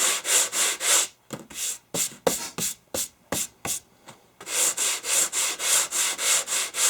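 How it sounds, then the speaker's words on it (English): Coarse sandpaper scrubs a metal machinist tool chest from Union Tool Chest Co. in quick rhythmic back-and-forth strokes, fast and even at first, then slower separate swipes, then fast again. "you need to use a heavier coarse sandpaper, and that will get off the bulk of it"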